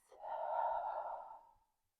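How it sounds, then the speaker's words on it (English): A single slow, gentle exhale through slightly parted lips, close and soft, swelling then tapering off over about a second and a half before silence. "And releasing that breath slowly through your mouth."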